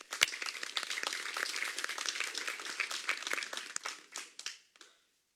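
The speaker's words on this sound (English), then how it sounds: "Let's give them a round of applause, please." Applause at a special city council meeting honoring a team and its coaches, a room of hands clapping steadily and moderately loud for several seconds before thinning out to a few last claps and silence.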